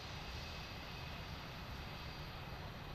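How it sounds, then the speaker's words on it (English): LATAM Airbus A321 with CFM engines taxiing toward parking in Microsoft Flight Simulator 2024, a steady broadband jet engine roar, faint and unchanging throughout. "So there's Element in the LATAM 321, the CFMs, taxiing in the parking."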